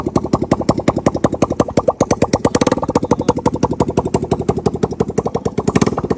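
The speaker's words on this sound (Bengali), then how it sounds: "তো আপনাদেরকে হচ্ছে বাইকের এখন সাউন্ডটা শোনাই।" A motorcycle engine runs with its exhaust removed, giving a loud, close, raw staccato putter of rapid evenly spaced firing pulses that holds steady throughout.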